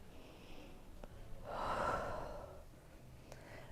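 A yoga instructor takes a slow, audible breath during a beginners flow, one soft drawn-out inhale and exhale up close, with faint clicks around it and no talking.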